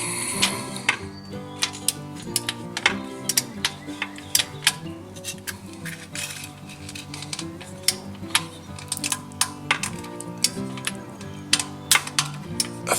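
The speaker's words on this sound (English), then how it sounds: "now we will use our torque wrench" Sharp, irregular clicks and ticks from a torque wrench tightening the oil drain plug under a 2017 Ford F250 Super Duty diesel, close and crisp over faint background hum.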